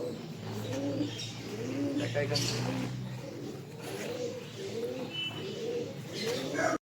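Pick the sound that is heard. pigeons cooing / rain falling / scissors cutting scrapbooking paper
pigeons cooing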